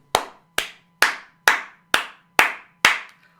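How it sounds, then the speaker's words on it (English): One person claps alone, seven single sharp claps spaced evenly about half a second apart. The claps are close, dry and deliberate, like slow sarcastic applause, over a faint low hum. "that was me clapping"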